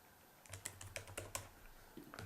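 A computer keyboard is typed on in a quick burst of close, crisp keystrokes while a file name is entered, followed by a short pause and a couple of final taps. The keystrokes are alone over a faint low hum.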